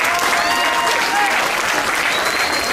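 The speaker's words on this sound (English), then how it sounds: "let's give these kids a nice round of applause as they head back." A crowd at a youth swine showing event claps steadily for the young showmanship exhibitors, a thick, uniform roar of applause lasting the whole moment with a faint whistle cutting through.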